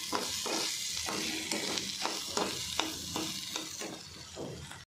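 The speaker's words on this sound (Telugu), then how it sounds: "కొంచెం ఒక 2 నిమిషాలు అలా వేగాలి." Okra and peanuts fry in a pan with dry coconut, giving a steady close sizzle. A spatula scrapes and stirs through it at a regular rhythm.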